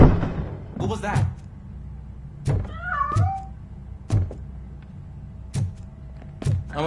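A cat meows in the video game RoboCop: Rogue City, a few short rising cries near the middle of the clip, set between repeated heavy metallic thunks and clanks as a door is worked open.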